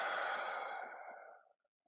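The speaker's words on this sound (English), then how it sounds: "and exhale out." One slow, deep exhale during yoga breathing, a soft breathy rush that starts full and close and gradually tapers into silence.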